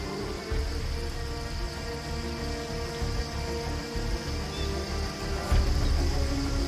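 Monsoon rain falls over lowland Sri Lanka, a steady broad wash of drops on surfaces with a low rumbling undertone, continuous and moderately loud.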